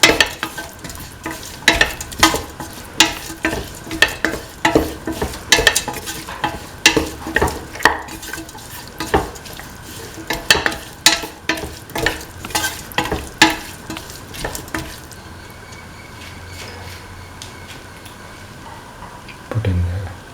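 Beef and green peas in coconut milk stew get stirred in a pan, a spoon scraping and knocking in an irregular rhythm over a soft sizzle, close and clear; the stirring stops near the end, leaving a quiet simmer.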